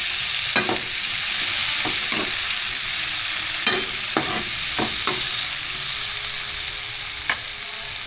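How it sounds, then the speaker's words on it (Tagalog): Onion and tomato sauté in a hot pan, a loud constant sizzle broken by repeated sharp spatula scrapes and taps at uneven intervals, close up with no talking. "So, gigisa natin itong sibuyas at kamatis."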